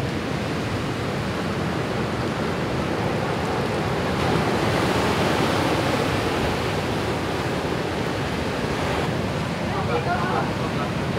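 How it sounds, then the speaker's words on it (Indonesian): Large ocean waves surge and break on Drini Beach in Gunung Kidul, Yogyakarta, a steady loud roar of surf with gusting wind across the whole stretch and a brief voice in the background. "Lihat ombak cukup besar."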